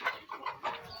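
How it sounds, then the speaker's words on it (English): Chickens cluck on a poultry farm holding a batch of about 225 birds, several overlapping clucks close by in quick succession. "225 birds"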